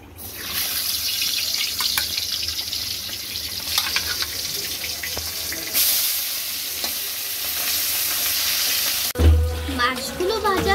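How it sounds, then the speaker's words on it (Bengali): Pabda fish rubbed with turmeric and salt fry in hot oil in a kadai, giving a loud, continuous, spitting sizzle close by, broken by a brief clatter near the end. "মাছগুলো ভাজা হয়ে যাচ্ছে"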